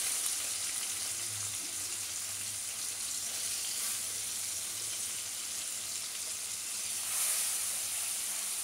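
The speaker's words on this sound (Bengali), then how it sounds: "গাজর আর বিনসটা খুব ভালো করে ভাজা ভাজা করে নেব।" Carrots and beans fry in oil in a pan, giving a soft, continuous hissing sizzle at a low, even level, with a slight swell near the end.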